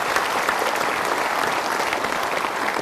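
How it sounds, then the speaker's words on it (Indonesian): Sustained, loud applause from an audience fills the whole stretch, a dense, even wash of clapping with no one speaking over it. "kita berikan tepuk tangan dulu"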